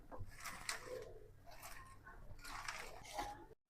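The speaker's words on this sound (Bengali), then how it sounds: "এখন সব আমি হাত দিয়ে মেখে নেব" Goat brain is kneaded together with soybean oil by hand, giving close, wet squishing and soft crunchy squelches in irregular bursts that fill the stretch before a sudden stop.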